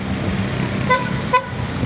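Street traffic rumbles by at night while a car horn gives two short toots about half a second apart, close and clear over the road noise.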